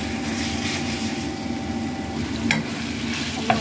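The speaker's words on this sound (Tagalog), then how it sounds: "Lagay na natin yung ating chicken, guys. Tapos, igisa lang natin." Chicken being sautéed in a frying pan, sticking a little, giving a steady loud sizzle with a couple of sharp utensil scrapes and clicks against the pan near the end, no voices.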